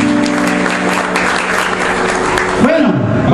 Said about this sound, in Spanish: ¡Un aplauso, bastante!